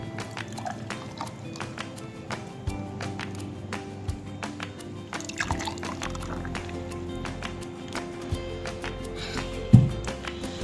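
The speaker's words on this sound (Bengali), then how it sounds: "আমি ঢেলে দেখাচ্ছি।" Green mango juice is poured into a glass in a steady liquid stream with small dripping and clinking sounds, close and fairly quiet.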